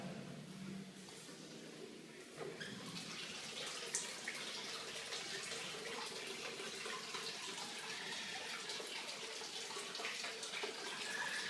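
Water runs steadily from a shower in a Japanese inn's bathing area, a continuous hiss and splash at moderate distance, faint and unbroken for the whole stretch.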